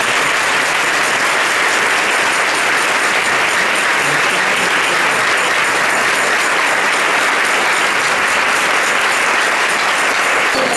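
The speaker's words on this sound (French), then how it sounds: "Un grand applaudissement pour elle." A church congregation gives the speaker a long, loud round of applause, a thick, unbroken wash of many hands clapping at steady volume from start to finish.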